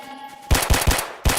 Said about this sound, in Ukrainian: Ну чого ти по мені стріляєш?